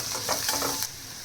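A spoon stirs red chili powder and salt into hot tempering oil for a coriander-leaf dish, giving a brief scraping, sizzling burst that fades to a quieter fry after under a second.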